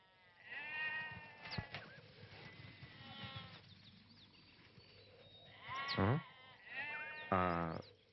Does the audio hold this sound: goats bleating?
yes